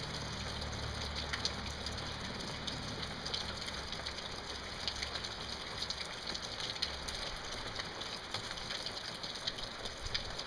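Steady rain falls on a surface, a dense continuous hiss and patter that holds evenly and loudly throughout with no pauses.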